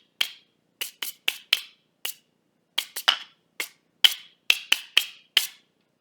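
Sandpaper blocks struck together and scraped in a series of sharp, dry, scratchy hits, single and paired in an uneven rhythm, close and isolated against silence.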